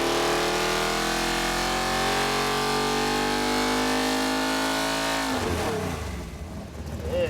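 A GM 572 crate engine with nitrous and a single 1150 Dominator carburetor roars at full throttle on a dyno, a loud sustained rising howl that holds for over five seconds, then drops off as the engine winds down.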